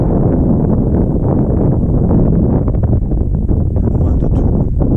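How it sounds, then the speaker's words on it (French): A gust of wind on a mountain hike below the Grand Coyer buffets the microphone in a steady loud low roar and rumble for several seconds, close and dense with no clear voices. "petite rafale de vent, c'est la première de la journée"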